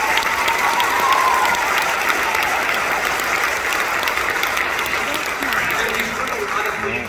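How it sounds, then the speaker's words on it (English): Loud, dense applause from the crowd at an end-of-band-camp concert, cheering the young band campers. The clapping is sustained and even throughout. "So make a big round of applause."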